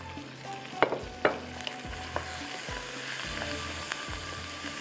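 Tomatoes and spices fry in a pan for an arvi curry, a steady close sizzle broken by a few sharp clinks and scrapes of stirring, with no voices.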